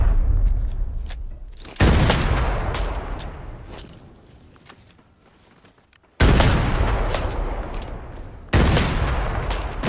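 Grenade explosions and gunfire in the video game Arena Breakout: three heavy booming blasts, each decaying slowly, with scattered shots in between, loud and close.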